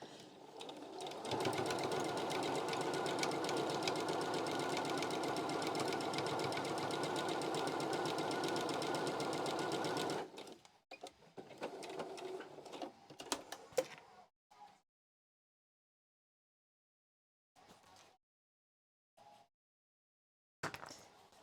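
A sewing machine stitching fabric masks runs in one steady, loud, continuous burst for about ten seconds and then stops. Brief handling clicks and short sounds follow, with quiet gaps between them.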